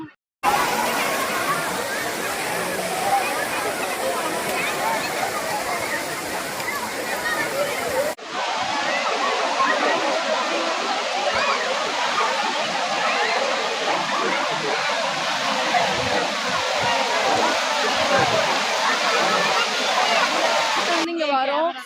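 The Kovai Courtallam waterfall near Coimbatore, running low in summer, gives a steady, loud broadband roar and splashing, with a crowd of holiday tourists murmuring throughout and a brief break in the rush partway.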